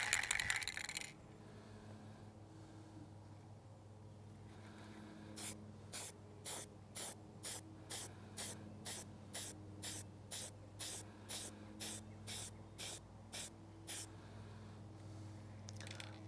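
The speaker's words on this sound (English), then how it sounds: "just a couple of sprays, it's already got sort of a real wood patina to it" Rapid, evenly spaced short bursts of spray paint hiss in a regular rhythm, laying thin coats onto a prop to build a wood effect, preceded by a quiet rattle and near silence.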